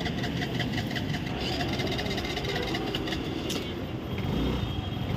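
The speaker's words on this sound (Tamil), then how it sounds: "ஒரு வழியாக ஸ்கூட்டி ஸ்டார்ட் ஆகிட்டு" A scooter's small engine idles steadily after finally starting, a constant close, fairly loud rumble with a faint high whine that barely changes for the whole stretch and has no talk over it.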